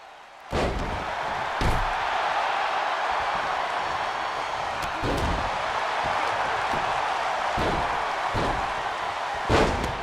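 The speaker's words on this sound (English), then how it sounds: "Hogan now slamming the back of the head of Ospreay into the mat" Heavy body slams thud into the mat as one wrestler drives another's head down in the WWE 2K22 video game, with several loud impacts spread over a steady roar of arena crowd noise.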